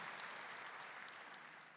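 A church congregation applauding during Mass, a faint, even patter of many hands clapping at a distance that tapers off slightly toward the end.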